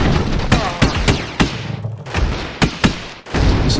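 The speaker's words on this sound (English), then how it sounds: "we can sort of see the 2 musketeers firing away underneath there" Two musketeers on an airship in the strategy game Airships: Conquer the Skies fire their rifles in a steady series of sharp, loud cracks at irregular intervals, each shot standing out clearly against a rumbling battle backdrop.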